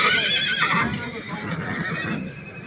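A horse whinnies loudly and close at a livestock market where young horses and mares are sold, a long wavering neigh with faint background noise and hoof sounds.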